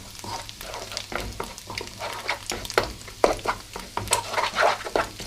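Egg fried rice with added salt being stirred in a hot pan, close and fairly loud, a continuous sizzle with repeated scraping strokes of the utensil in an uneven rhythm; no talk.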